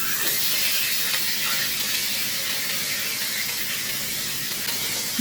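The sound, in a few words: rohu fish frying in a pan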